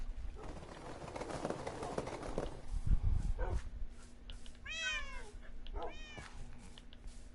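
Minecraft cats meow twice in the game, in quick rising-and-falling calls, after a stretch of shuffling and footstep-like thuds; the meows are clear but moderately quiet.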